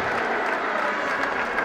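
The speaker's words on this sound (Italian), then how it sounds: "Un applauso ai coach della Lituania che hanno portato alla vittoria la loro" Applause at a 2018 memorial tournament award ceremony, clapping for the coaches of the Lithuanian team, a dense, steady wash of many hands close by with no voices over it.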